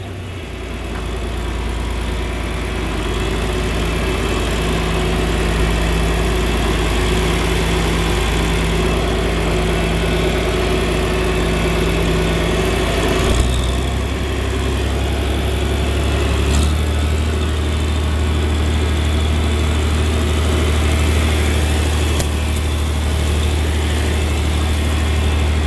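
A John Deere 4010 tractor's engine runs steadily up close for the whole stretch, a loud, even low rumble and drone that shifts pitch slightly partway through as the tractor moves in gear, with no talking.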